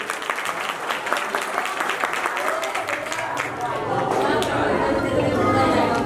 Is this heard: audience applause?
yes